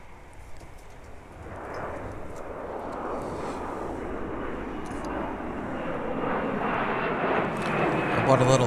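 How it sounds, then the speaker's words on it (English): A Gulfstream G500 jet takes off at a wintry Minneapolis–St. Paul airport during deicing operations, a broad roar that swells louder over several seconds while a person talks over it. "if you can hear that jet, that's a Gulfstream G500 taking off"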